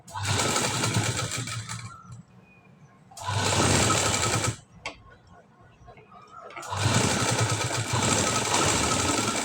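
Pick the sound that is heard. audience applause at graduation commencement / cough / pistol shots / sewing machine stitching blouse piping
sewing machine stitching blouse piping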